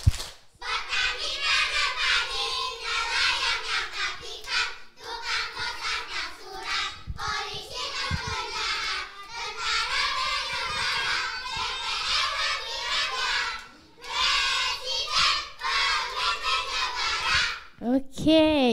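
Kindergarten children chant the clapping game 'tepuk pekerjaan' with their teacher leading, voices loud and continuous in unison with rhythmic hand claps mixed in for most of the stretch.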